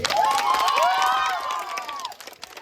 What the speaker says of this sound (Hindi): ताली भाई अपने लिए